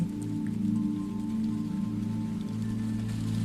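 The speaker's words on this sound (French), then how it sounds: "les premières gouttes de pluie commencent à tomber" Steady warm summer rain falls on a surface, a dense, even patter with a low rumbling undertone, continuous and fairly close throughout.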